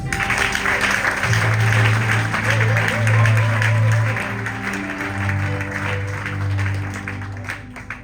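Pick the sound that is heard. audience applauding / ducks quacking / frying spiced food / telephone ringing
audience applauding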